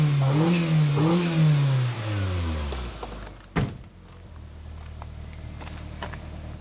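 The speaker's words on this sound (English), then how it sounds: "then I'll rev it. Watch what happens." A Ford Probe with an engine fault revs up twice in quick succession, rising and falling in pitch, then settles into a rough, uneven idle after a sharp clunk, recorded nearby.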